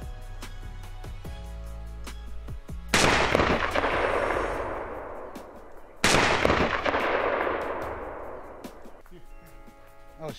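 Two sharp, loud shotgun blasts during a quail hunt in Georgia, about three seconds apart, each ringing out with a long fading tail, following a series of quieter clicks and knocks.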